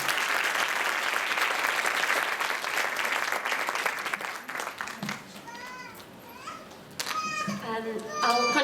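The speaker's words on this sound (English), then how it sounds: "Can we have another big round of applause for them?" Applause for a children's performance fills the hall, a dense clatter of clapping that fades after a few seconds, giving way to children's voices and chatter.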